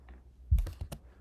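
A few quick keystrokes on a computer keyboard while working in Photoshop, close and soft clicks in a short cluster.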